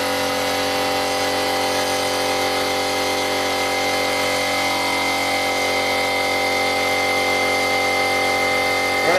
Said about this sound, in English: if I plug in the little compressor and we do some cutting with the little compressor